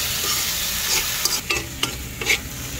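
A pan of frying food is stirred, a steady sizzle underneath and several sharp scraping strokes of the utensil toward the end.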